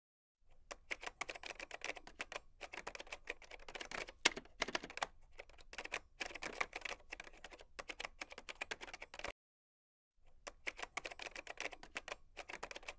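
Rapid, irregular clatter of keys on a computer keyboard as code is typed, steady bursts close up with a brief pause near the end, no voices.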